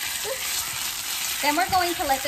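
Old-fashioned mustard sauce cooks in a pan with a steady, close sizzle, while a voice speaks briefly over it near the start and again toward the end.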